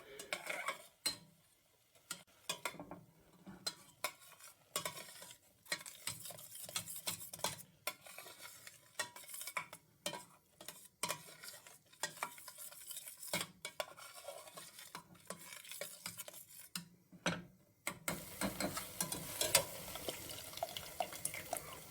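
Onions and tomato puree cooking on high heat in a pan, with repeated clinks and scrapes of a utensil stirring against the pan over a faint sizzle.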